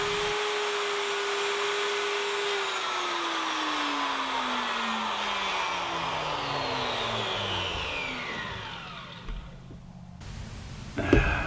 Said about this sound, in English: I'll just make a pass with a 3/4 inch straight cutting router bit